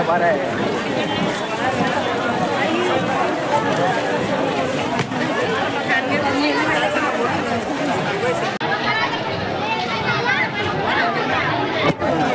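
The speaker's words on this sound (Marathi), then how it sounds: "बघा आजची गर्दी भरपूर आहे" Dense crowd chatter fills a village fair (yatra) in Vashi village, Pen taluka, a steady loud babble of many voices with occasional footsteps and bustle, continuous throughout.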